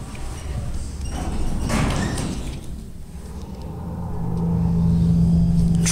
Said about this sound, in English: the door's not closing. Oh, there it goes.